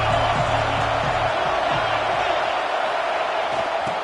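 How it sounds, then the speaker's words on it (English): Crowd noise in the College Football 26 video game, a steady roar of cheering fans that fills the whole stretch without a break, loud and broad, with a faint low rumble early on. "This crowd ready to make its presence known."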